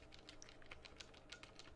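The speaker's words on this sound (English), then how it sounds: "Oh yeah, that's the sound of the switches," Bare keyboard switches without keycaps are pressed in quick, uneven bursts of soft, muted clacks, close and quiet, with no clicky snap and no talking.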